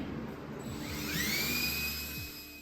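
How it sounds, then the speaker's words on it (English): A power drill bores a pilot hole through drywall while hunting for a ceiling joist, giving a steady whine that rises in pitch midway and then eases off, close and unaccompanied by talk. "When verifying with a pilot hole, I'm looking for wood shavings and a solid backing as I drill through the drywall."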